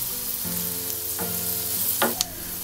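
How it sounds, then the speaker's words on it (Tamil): Ginger and curry leaves sizzle in hot oil in a pan for ginger chutney, a steady frying hiss with a few sharp crackles and the clink of a spoon stirring near the end. "இப்போ இதில் 1 கொத்து கருவேப்பிலை சேர்த்து வதக்கிக்கலாம்."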